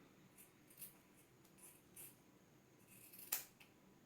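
Scissors snip through a shirt, a few faint, separate cuts spaced out, with one sharper snip near the end in a quiet room.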